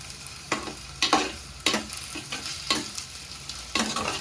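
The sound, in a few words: ginger garlic paste sautéing in a pan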